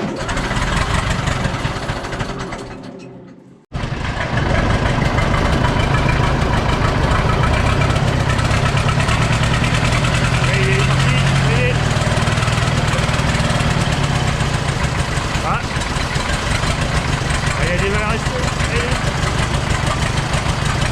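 An old tractor engine idles loudly and steadily with a rough, chugging rumble; a short dip near the start, then the engine runs on unbroken.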